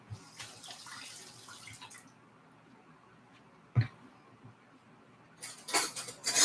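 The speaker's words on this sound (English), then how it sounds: "Let me rinse this off." Tap water runs briefly over a spoon being rinsed in a kitchen sink, followed by a single clink and then a louder final surge of splashing water, with no talking.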